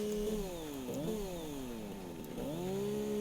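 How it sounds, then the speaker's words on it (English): A chainsaw in the Satisfactory video game clears trees, its steady motor whine rising and dipping in pitch in two sweeps, loud and close with no talk. "I'm going to use my chainsaw to just do some mass clearing"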